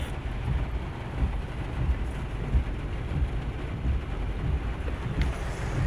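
Heavy rain pours in a steady dense wash during a thunderstorm near Ennis, Texas, with low rumbling thunder rolling continuously underneath, loud and close throughout.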